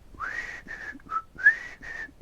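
A soft human whistle plays a short tune in several breathy phrases with brief pauses between notes, close and alone.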